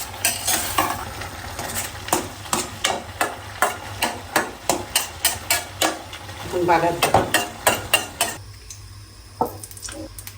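Ivy gourd leaves and boiled potatoes cook in oil in a pan, stirred with a utensil in steady, regular scrapes and taps over a soft sizzle. The stirring stops near the end.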